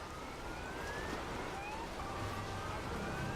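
A police car siren in the video game inFAMOUS Second Son wails faintly in the distance, its rising sweeps repeating over a steady background hum.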